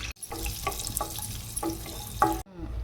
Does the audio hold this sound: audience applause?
no